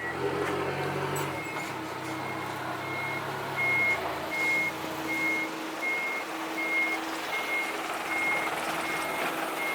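A truck at a concrete plant with a newly fitted exhaust pipe idles and rumbles steadily, while a reversing alarm beeps in a regular rhythm over the engine throughout.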